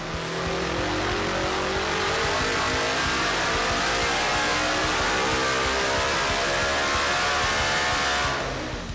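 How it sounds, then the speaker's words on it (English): A Polaris RZR XP 1000 UTV engine with an Extreme RR single exhaust revs hard on an engine dyno, holding at high, rising pitch for several seconds, a sustained roaring whine that cuts off near the end. "We got a RZR XP engine still on our engine dyno."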